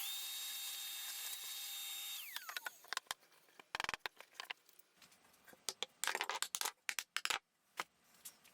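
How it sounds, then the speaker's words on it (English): A cordless Makita-compatible trim router on a circle-cutting jig whines at high pitch while cutting speaker driver holes, then spins down and gives way to scattered clattering and knocking of the workpiece and tools. "I got the trim router and the circle cutting jig from Banggood.com"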